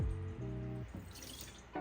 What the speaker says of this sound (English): pour out any water that might be in there,